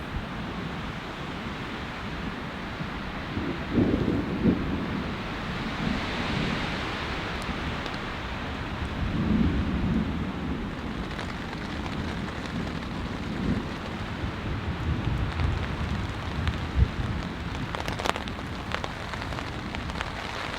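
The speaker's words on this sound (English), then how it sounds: "It's raining. Not super hard, but it's coming down. I'm hearing some thunder now." Steady rain patters on a nearby tarp, with low rumbles of distant thunder rolling in and out beneath it.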